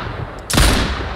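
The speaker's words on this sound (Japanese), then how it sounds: "すごく近い銃声が" A single very close gunshot from the survival video game Mist Survival: one sharp, loud crack that decays quickly against a low ambient background, with no speech.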